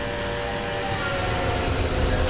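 A train rumbles loudly through a rail tunnel, a dense continuous roar of wheels and echoing noise that swells slightly toward the end, with no talk.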